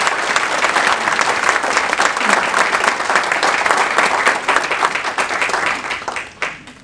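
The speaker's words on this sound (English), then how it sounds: "Please give them a round of applause." An audience applauds at a city council meeting, steady dense clapping through the whole stretch, loud and close, then tapering off near the end.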